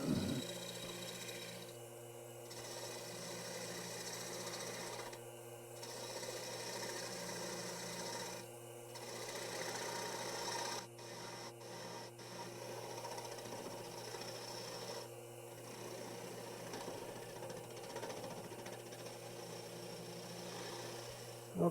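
A bowl gouge cutting wood on a lathe gives a steady scraping, rasping hiss over a low motor hum, broken by several short pauses as the tool lifts off the spinning wood.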